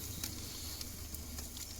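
Oysters sizzle on a camp grill during a tent campout, a steady crackling hiss with scattered sharp pops, moderately close and continuous, with no voices.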